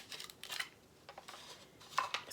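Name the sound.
scissors cutting tape on a package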